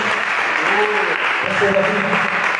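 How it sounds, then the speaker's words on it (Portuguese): Steady applause from a church congregation fills the clip, with voices faintly audible underneath. "Aplauda o Senhor Jesus nesta noite"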